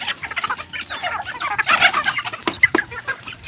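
Several chickens cluck close by in quick, overlapping bursts, with a few sharper squawks and some scratching sounds.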